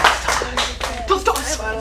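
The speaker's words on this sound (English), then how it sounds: "let's give them another round of applause" Audience clapping at a teen acting showcase, a brief burst of applause with scattered hand claps, close and fairly loud, with voices mixed in.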